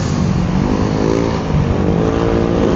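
A close, loud motorcycle engine revving steadily, its droning pitch rising slightly, with no talk over it.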